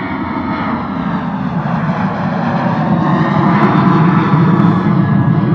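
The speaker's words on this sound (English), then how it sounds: "Nice loud departure from a Ryanair Boeing 737 heading out to Dublin." A Ryanair Boeing 737 departing Bristol Airport for Dublin roars loud and close in a steady jet engine rumble that swells slightly as it climbs away, with no voices over it.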